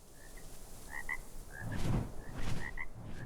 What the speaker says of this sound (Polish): słyszałem chyba żabę